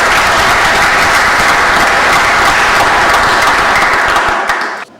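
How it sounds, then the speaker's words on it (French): Loud, dense audience applause from a crowd at a community event, steady and close for several seconds before cutting off abruptly. "nous vous demandons encore une fois d'applaudir pour les amis"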